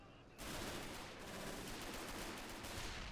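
Dense, continuous machine-gun and rifle fire in the WWII strategy game Men of War: Assault Squad, a steady close barrage kicking in after a brief quiet start and rolling on without pause.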